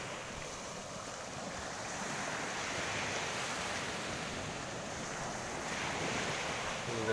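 Gentle, small sea waves washing onto a sandy beach, a continuous soft surf wash with a little wind noise and no voices.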